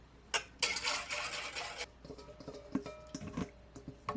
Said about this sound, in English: Give this a whisk again.